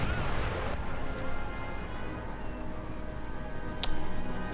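Mortar fire on an Empire: Total War battlefield, a dense continuous rumble of distant artillery with a sharper crack near the end, steady and fairly faint throughout.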